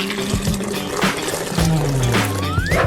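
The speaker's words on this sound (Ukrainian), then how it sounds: "наливаємо в келих" A blueberry and yogurt smoothie pours steadily into a glass with a gurgling, rising tone, close by, over a low background hum and some clinks.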